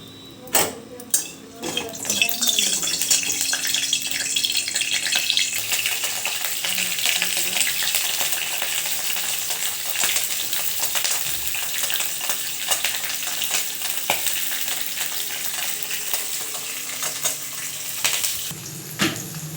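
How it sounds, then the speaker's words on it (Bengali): Chopped onion frying with cloves, cinnamon, cardamom, bay leaf and cumin in hot oil, a steady close sizzle after a few sharp clanks of pan and utensil, continuing evenly. "এরপরে কুচনো পেঁয়াজ দিয়ে দেবো এটাতে।"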